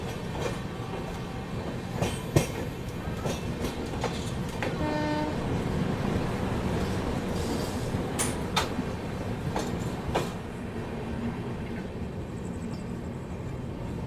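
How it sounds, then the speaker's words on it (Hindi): The Garib Rath Express passenger train from Bhagalpur pulls in near a yard at Ghaziabad with a steady rolling rumble, irregular clickety-clack wheel beats and a brief tonal horn-like note, heard from a moderate distance. "गरीब रथ एक्सप्रेस भी पहुंच रही है भागलपुर वाली"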